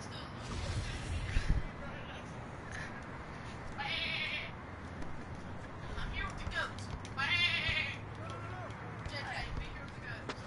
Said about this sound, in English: I'm here with the goats.